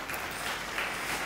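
A church congregation claps hands together during a Tamil Christian Bible study, giving a dense, steady patter of many hands at moderate loudness with no pause.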